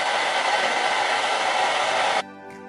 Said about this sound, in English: I'm gonna use my blow dryer and just apply some heat.